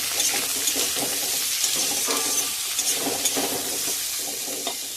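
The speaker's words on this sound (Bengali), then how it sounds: "পেঁয়াজটাও আলুর সঙ্গে আর একটু ভাজা করে নেব।" Chopped onion frying with potatoes in a pan for a Bengali pomfret curry, with a steady close sizzle and repeated scraping as it is stirred throughout.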